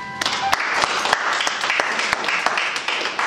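An audience at a press event before a concert applauds the artist, a burst of scattered, sharp individual claps with some crowd voices mixed in, ongoing for a few seconds.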